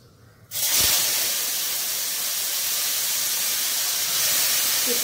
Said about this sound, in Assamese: এতিয়া তিতা কেৰেলাখিনি দি দিম।